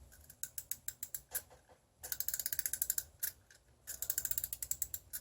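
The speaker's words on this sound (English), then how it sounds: "this Rowlet seems to have a little mechanism to make his wings flap" Small plastic Pokemon Rowlet toy from a McDonald's meal, its wing-flapping mechanism giving off rapid ratcheting clicks in close, quiet bursts, with a pause near two seconds and a dense run of ticks after it.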